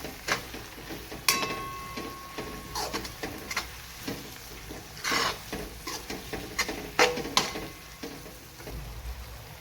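Chopped green garlic tossed into a hot pan of oil for a Kathiyawadi vagharelo rotalo, giving a steady close sizzle with scattered clicks and stirring scrapes and no talk.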